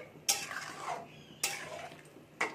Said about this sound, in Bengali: এবার দিয়ে এটাকে আমি ভালো করে নেড়ে নিচ্ছি এর সাথে।